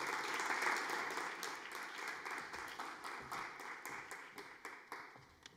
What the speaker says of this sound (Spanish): Vamos a recibir a Cris Arana con un fuerte aplauso